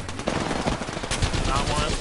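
Rapid automatic gunfire in the Apex Legends video game, a dense continuous burst of game shots mixed with in-game effects, with a voice faintly underneath.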